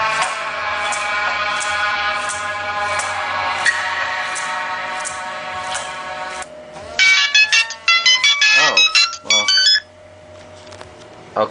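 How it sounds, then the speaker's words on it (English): A mobile phone plays a sustained repeating ringtone-like melody, then a burst of short, bright, chirpy electronic tones follows as a message alert. Both are loud and close, with little else beneath them. "I just got a text message"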